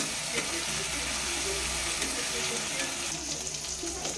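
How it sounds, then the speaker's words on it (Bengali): Ginger-garlic paste sizzles and fries steadily in a pan while being stirred, a continuous crackling hiss with faint scraping underneath, during preparation of a Bengali fish curry. "ভালো করে নেড়ে নেওয়া হচ্ছে।"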